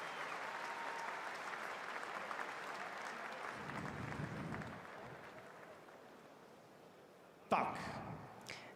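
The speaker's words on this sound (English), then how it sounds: "Once again, your applause for these men." Sustained applause from an arena crowd honouring Czech war veterans at a combat sports event, steady throughout before a louder burst of clapping and cheering near the end.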